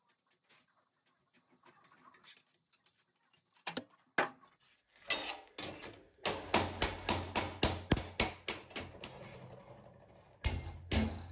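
Rapid series of loud metallic slaps from a metal slapper striking sheet metal for an Austin 7 special exhaust, about a dozen blows in quick rhythm after a few scattered hits, close and ringing.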